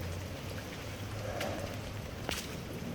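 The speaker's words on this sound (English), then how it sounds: "There's a river going back there." Flood water runs behind a house after heavy rain, a steady wet rush with rain patter and drips close by, plus a low hum and a couple of brief splashes.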